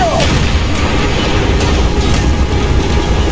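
Loud, dense rumbling blast in the Call of Duty Black Ops video game, with a sustained low roar and crackling debris filling the whole stretch at close range.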